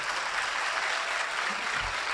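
A crowd at a Dubai student toppers award ceremony gives sustained, even applause, a dense wash of many hands clapping that continues without pause.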